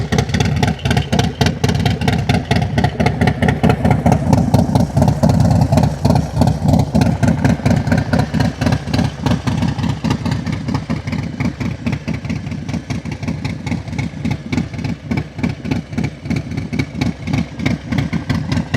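A Harley-Davidson Low Rider ST motorcycle idles close by with a steady, loping chop of engine pulses that holds an even rhythm throughout, with no voices over it.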